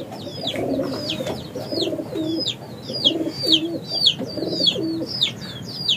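A Shirazi pigeon coos in repeated soft, low phrases at a steady pace, close by, with faint chirps from other birds in the background.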